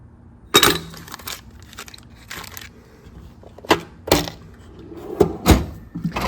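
Tool chest drawers in a workshop, including oil change drawers, being opened and closed: a series of sharp metallic clacks and sliding knocks, irregularly spaced, fairly close, with quiet stretches between.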